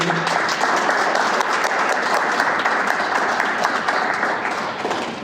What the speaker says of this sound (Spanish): me gustaría que lo recibiéramos con un aplauso